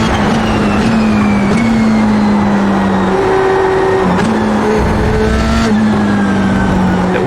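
A Formula 3 race car engine screams steadily at high revs around Silverstone in the iRacing game, with brief shifts and dips in pitch as the car changes gear and brakes, loud and continuous.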